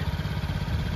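A small scooter engine with a snapped drive belt idles close by with a steady low putter, an even rapid chugging pulse with no voices.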